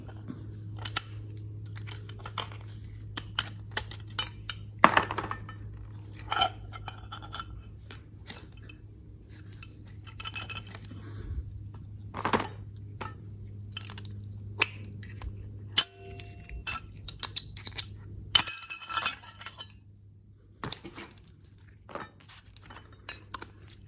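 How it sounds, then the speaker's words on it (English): Metal clinks, taps and scrapes come from pulling the top snap ring out of a Mopar 904 automatic transmission with a sluggish shift, close and intermittent over a steady low hum, with no talking. "Pull that first top snap ring out."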